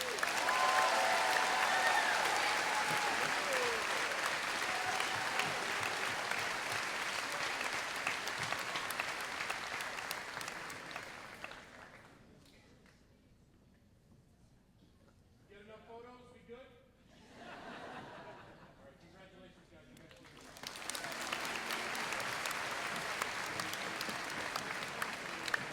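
A middle school graduation audience applauds students, with loud, dense clapping for about eleven seconds that fades into quieter crowd murmur and laughter, then swells again into full applause near the end.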